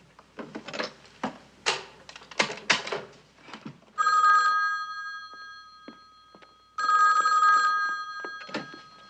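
Clicks and rattles of dialing, then two long bursts of a late-1960s old-style telephone bell ringing, separated by a pause.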